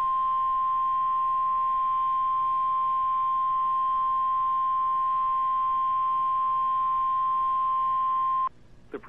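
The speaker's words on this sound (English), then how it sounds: "The proceeding was a test of the National Weather Service warning alarm tone." A steady, continuous 1 kHz-range NOAA National Weather Service warning alarm tone test plays alone at a constant level for about eight and a half seconds, then cuts off abruptly, followed by a few faint clicks.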